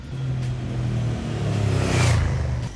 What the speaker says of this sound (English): the old thump has been reduced and there is a prominent wheeze that one can notice